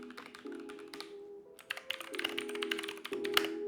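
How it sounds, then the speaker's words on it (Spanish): Fast clicky typing on a mechanical gaming keyboard with blue switches: a dense, irregular run of sharp keystrokes heard close up and alone. "blue son de los teclados mecánicos más ruidosos"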